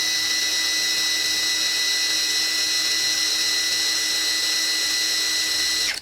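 An APR AP84+ electric impact wrench runs free at speed 2, a loud, steady high-pitched motor whine held evenly for several seconds before cutting off abruptly at the end.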